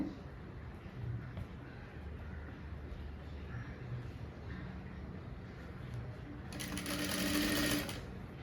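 A sewing machine stitches the back piece of a blouse in a tailoring class, its motor running low and steady at moderate distance before a brief, louder whirring burst near the end.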